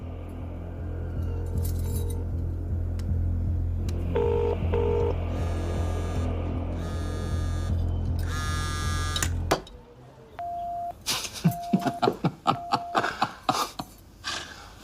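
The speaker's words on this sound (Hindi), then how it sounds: "चल फोन लगा उसे। फोन लगा" A phone is dialed on speakerphone, with short electronic keypad tones over a loud buzzing hum, then a quick string of sharp dialing beeps and clicks once the hum cuts off.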